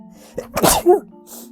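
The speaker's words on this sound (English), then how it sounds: "I'm going to sneeze" A single close sneeze, a short breathy intake followed by a sharp explosive burst, over a faint steady hum.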